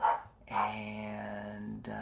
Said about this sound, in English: my attack dogs are barking in the background